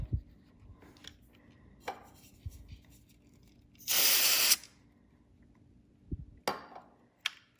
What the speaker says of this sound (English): we'll maybe try to spray on this little circuit board piece here